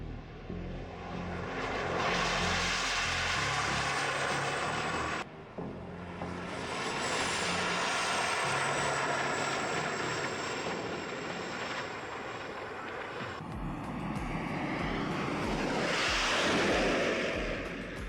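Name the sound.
car powered by two helicopter turbine engines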